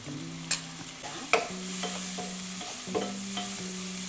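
Ginger garlic paste frying in hot oil in a pan for a green chicken biryani, a steady close sizzle broken by a few sharp stirring scrapes and clinks, with no talk.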